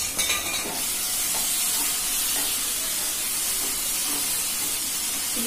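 Suji balls frying in a pan with soy sauce, a steady close hiss and sizzle of oil filling the whole stretch, with faint stirring clinks.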